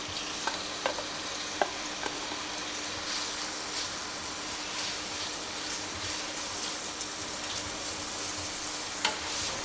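Chicken pieces for chicken jalfrezi fry in a pan with a steady, fairly quiet sizzle and occasional stirring clinks, with no talking.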